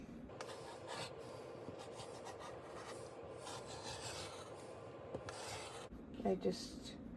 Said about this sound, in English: And then I will finish cutting.